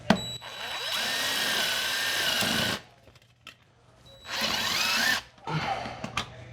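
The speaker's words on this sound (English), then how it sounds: "I think I'll get some tech screws in that cap just to hold it on there." A power drill drives tech screws into a metal wood-stove cap in two loud whirring bursts with a short pause between, close by and without talk.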